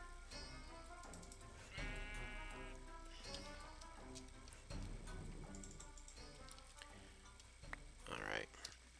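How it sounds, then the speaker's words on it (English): A sheep bleats from a minecart in Minecraft, sounding repeatedly at moderate volume, while someone talks through most of the stretch. "Is there a sheep in that cart?"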